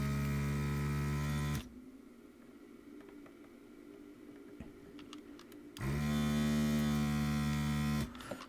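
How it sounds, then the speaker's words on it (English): A professional desoldering iron with a built-in vacuum pump, used to pull faulty components from a circuit board: a loud steady pump hum runs for about a second and a half, cuts out, then returns for a longer burst near the end. "I'm actually going to be using a more professional setup here, where it's got a built-in vacuum"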